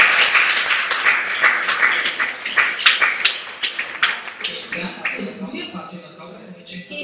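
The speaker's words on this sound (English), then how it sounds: "Applause." Audience applause at a design lecture, a dense, loud burst of clapping from many hands that thins out and fades toward the end.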